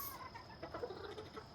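A chicken clucks softly in a short burst of quiet, close calls in a backyard coop where chicks are being watered, over faint ambient background.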